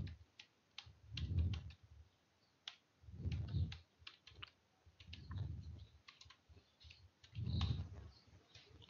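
Computer keyboard keys clicked in short bursts of typing a terminal command, separated by brief pauses, close and fairly quiet, with no speech.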